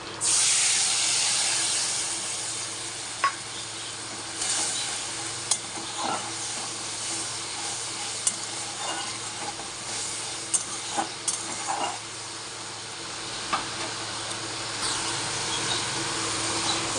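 Spice paste of turmeric, chili powder and salt mixed with water sizzles loudly in a pan for the preparation of koi fish tel paturi, a constant hissing fry broken by scattered scrapes and taps of stirring.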